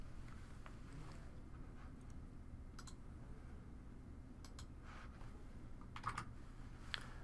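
Fingers tap on a computer keyboard in short, quiet bursts of clicking keys, with a couple of sharper presses near the end.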